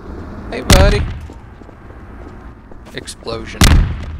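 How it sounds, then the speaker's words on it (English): Explosions from the video game Half-Life 2: Episode One, two loud, sharp blasts about three seconds apart with quieter rumbling and clatter between them. "Explosion."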